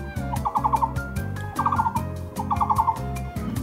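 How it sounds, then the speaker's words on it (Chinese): Birds call along a shaded forest hiking trail on Wenjianshan in Taipei: three bursts of rapid, gobbling, warbling notes ring out nearby over a steady droning hum of insects and woodland background. "听听虫鸣鸟叫的声音。"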